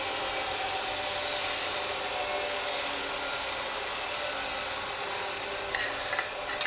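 A wood lathe spins at 2,000 RPM while a slimline pen is turned, making a steady, close whirring hum with airy rushing noise, and faint handling taps near the end.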